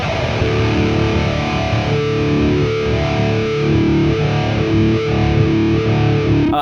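Electric guitar played through an auto-wah effect pedal with some distortion, a steady sweeping filtered tone sustained and loud throughout with no talking.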